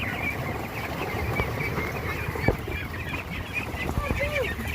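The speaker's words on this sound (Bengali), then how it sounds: "আমরা হাঁস পানিতে ছেড়ে দিচ্ছি" Domestic ducks being released onto a farm pond, with scattered honks and quacks amid faint splashing and background noise, fairly quiet and moderately distant.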